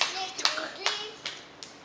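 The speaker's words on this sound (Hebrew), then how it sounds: "והיא מוחאת כפיים" A nine-month-old baby girl claps her hands for the first time, producing five soft, separate claps spaced evenly while a child and an adult talk alongside.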